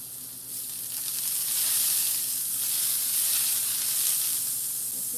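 Butter sizzling steadily in a frying pan, a soft, even hiss that swells slightly and holds with no talking.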